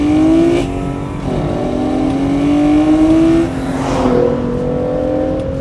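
Hyundai Genesis Coupe engine revving hard from inside the car while driving, rising in pitch through the gears with a brief dip between pulls, loud and continuous with no talk.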